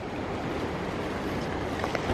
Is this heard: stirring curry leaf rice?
no